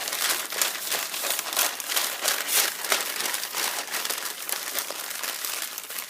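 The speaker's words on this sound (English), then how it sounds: "I'll roll my newspaper. This time I'm not even rolling it nicely, I'll roll it crinkly." Newspaper being rolled up roughly and crinkled for a paper mache donut, a steady close crackling and rustling of paper that runs for several seconds with no talking.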